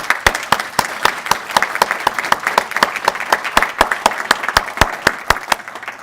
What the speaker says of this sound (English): Can I have a round of applause for all these power partners?